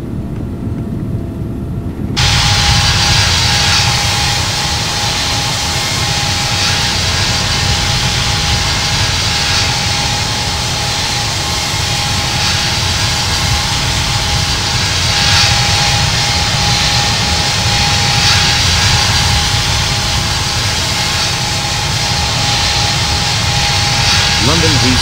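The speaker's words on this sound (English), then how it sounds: "Romeo is taking off runway 27 right" A Virgin Atlantic jet takes off from runway 27 right at London Heathrow in the Infinite Flight game. After a brief quiet start, a loud, steady, broadband engine roar fills the rest of the clip with a faint constant tone running beneath it.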